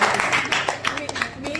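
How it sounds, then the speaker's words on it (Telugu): An audience claps for a prize winner at a gathering. Scattered claps sound close by, mixed with talking voices. "క్లాప్స్ కొట్టండి"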